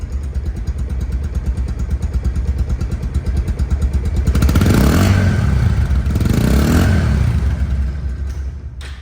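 A second-hand Bajaj Pulsar motorcycle idles with a close, steady thumping beat, then revs up into a louder, rising roar before settling back toward idle.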